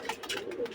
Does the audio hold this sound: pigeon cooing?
yes